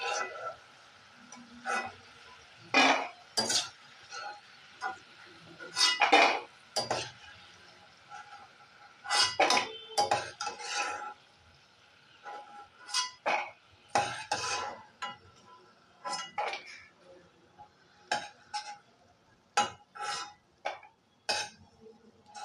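A metal utensil scoops golden fried cashews out of a pan of hot oil, producing a string of sharp clinks and scrapes with light sizzling in between, intermittent and fairly close.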